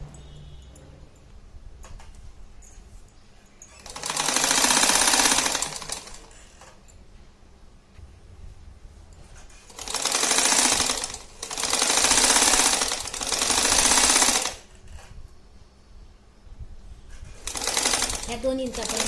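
A sewing machine stitching a reusable shopping bag runs in several close, steady whirring bursts of a second or two, with quiet handling noises between runs and faint background sounds.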